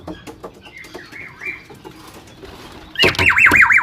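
Pet pigeons' wings flap in a sudden loud burst close by after a quieter stretch of faint coos and rustling, with a shrill whistling tone joining as the flapping starts.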